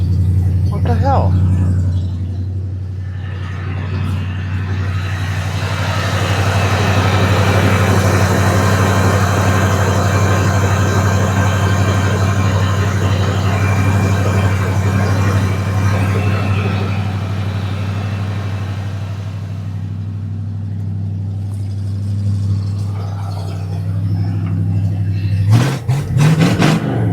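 A 1986 Ford F150 truck engine with a broken gas pedal runs at a steady, loud, low idle for about twenty seconds, then quiets before a brief clatter at the end.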